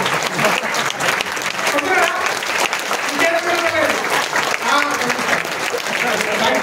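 A crowd claps steadily at an anniversary award ceremony, dense continuous applause with voices and cheers mixed through it.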